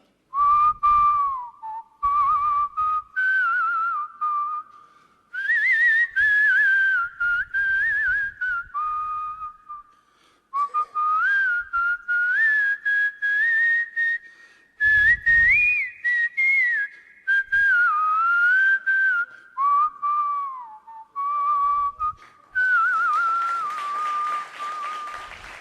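A song is whistled in imitation of a parrot's voice, a loud, close melodic whistle that slides and warbles through long phrases with brief pauses, ending with a burst of applause.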